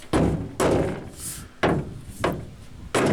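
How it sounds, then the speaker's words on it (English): A hammer beats dents out of the body metal of a Ford pickup, with four loud, close metallic blows spaced unevenly over a few seconds. "it's time to start taking the dents out"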